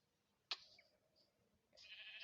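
Faint, quiet Minecraft sheep bleats: a sharp short cry, a pause, then a longer bleat rising toward the end.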